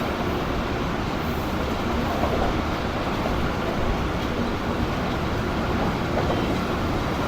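Shalimar Express train heard from just behind the locomotive while braking, a dense continuous rumble and roar of wheels and carriages, loud and steady throughout with no voices.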